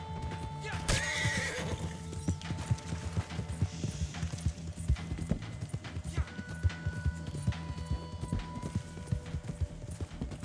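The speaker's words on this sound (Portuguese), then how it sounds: "Não atira no cavalo, mano. O cavalo já tá todo assustado" A frightened horse in the video game Red Dead Online gives a loud whinny, then hooves clatter in a rapid, uneven clip-clop rhythm close by, with occasional mechanical clicks.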